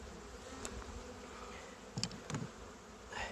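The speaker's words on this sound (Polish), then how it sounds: "Te pszczół, pszczółki obsiadają na czarno, przynajmniej tą stroną całą" Honeybees crowd a hive frame during a spring inspection, a faint, steady buzzing hum broken by a few brief, closer buzzes.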